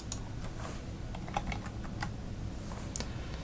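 Typing on a computer keyboard, entering an address into a web browser: a quiet, close run of light key clicks in an irregular rhythm over a low room hum.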